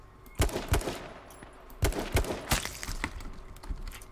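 Gunshots in the survival shooter H1Z1 crack out in irregular bursts, some single and some in quick pairs, loud and sharp over a low game ambience.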